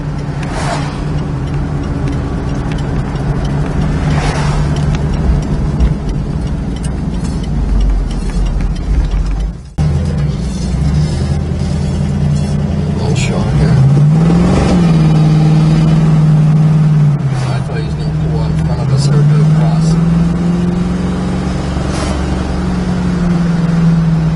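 A 1970 Plymouth Cuda's V8 idles with a loud, steady low rumble close by, then revs several times in rising and falling swells before settling back to idle.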